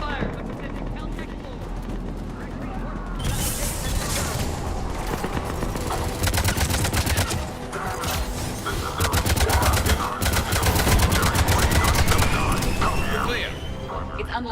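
Heavy enemy gunfire in Mass Effect 3 erupts in dense, overlapping volleys and rapid automatic bursts over a mechanical combat din, with voices heard amid the shooting.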